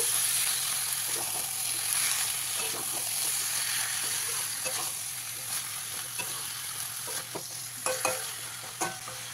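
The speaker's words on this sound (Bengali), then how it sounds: "কেটে রাখা লাউ ডাঁটা এবং শাকটা। দিয়ে মশলার সঙ্গে খুব ভালো করে মিশিয়ে নেব।" Chopped bottle gourd stems and greens sizzle in oil with spices as a spatula stirs them, giving a steady frying hiss with scattered scraping knocks that grow toward the end.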